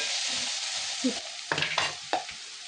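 Thinly sliced salted onions cook in oil in a pan, a steady close sizzle broken by a few louder stirring scrapes.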